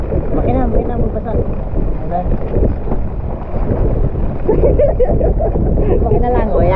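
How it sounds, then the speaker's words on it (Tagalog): A boat engine runs at sea during a storm, a loud, steady low rumble buffeted by gusting wind noise and splashing waves, with people talking over it. "Makina lang o yan."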